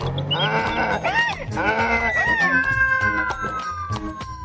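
Cartoon cat meowing in an animated Hindi children's story, several drawn-out, bending meows in a row with a sheep- or goat-like bleating quality over a background music bed.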